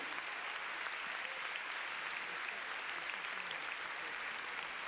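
An audience at a Flex-On partners' championship applauds for a commentator's birthday, a steady, even wash of many hands clapping, moderately distant and sustained throughout, with no one speaking over it.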